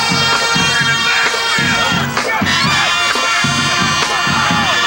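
A large crowd at a 1999 South Jersey Group 1 high school football final between Glassboro and Florence, outdoors on a mild day, keeps up a steady roar with a band playing rhythmic drum beats and brassy tones throughout.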